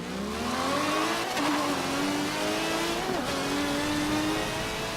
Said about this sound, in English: I thought I'd better let you guys listen to the V12 properly